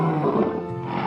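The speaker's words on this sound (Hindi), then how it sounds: "यह बातें सुनते ही शेर गुस्सा होकर गरजने लगा।" An angry cartoon lion roars in a forest fable, giving one loud, growling roar that rises and falls over about a second, close and alone without talk.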